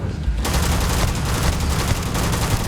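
Rapid sustained gunfire from a weapon in Starfield, a dense, loud burst of shots continuing without pause across the whole moment after a brief quieter start.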